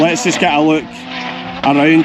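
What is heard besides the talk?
Vauxhall Astra van driving past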